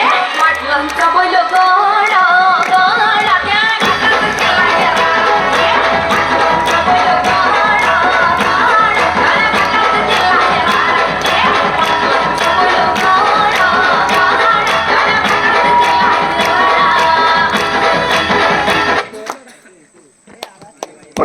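A crowd at a prize ceremony after the final match of a village sports tournament claps and cheers loudly and steadily for about fifteen seconds, then abruptly falls quiet.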